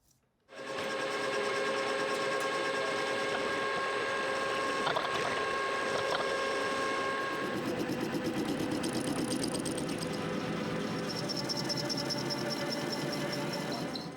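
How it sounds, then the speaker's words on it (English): Metal lathe machining the face of a part held in a 4-jaw chuck, a steady whine with harmonic tones and a continuous cutting hiss, starting abruptly and running loud and unbroken without speech. "Next we put it in the 4-jaw chuck on the lathe and set about machining it."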